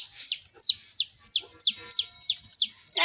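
Hen with her chicks, giving a run of about nine sharp, evenly spaced high calls, close and loud, with faint background sounds between them.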